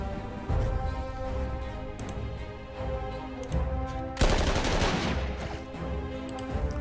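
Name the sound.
infantry gunfire attack in video game Panzer Corps 2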